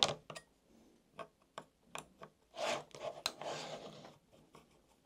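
Screws on the upper section of an AAP01 are loosened with a 2 mm hex driver, giving sparse, quiet clicks, ticks and small scraping rasps spread irregularly through a hushed space.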